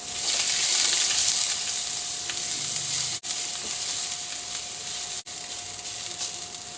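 Four garlic cloves sautéing in hot oil for macaroni soup, a steady close sizzle that holds throughout with two brief drops in the frying hiss.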